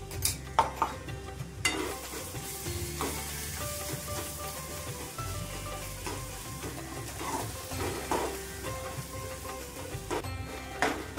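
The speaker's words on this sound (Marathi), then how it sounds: "वाटण आपलं छान परतलत गेलंय।" Ground masala paste sautés over low heat in a pan with mustard seeds and cumin tempering, a steady sizzle punctuated by repeated spatula scrapes and clinks against the pan.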